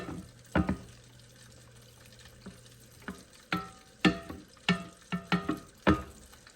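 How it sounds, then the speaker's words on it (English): Shrimp scampi seasoned with garlic salt being stirred in a frying pan, with repeated scraping clatters of the utensil against the pan over a soft background sizzle, close and fairly loud. "I'm going to stir it and let them cook for about probably another minute or two."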